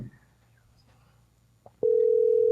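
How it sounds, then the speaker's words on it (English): Telephone call tone during a live call, a brief quiet stretch with faint noises, then a loud, steady continuous electronic tone starting near the end, close and alone without speech over it. "Can you hear it, Paul? Yeah. It's ringing."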